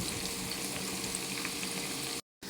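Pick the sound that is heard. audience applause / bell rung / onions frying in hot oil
onions frying in hot oil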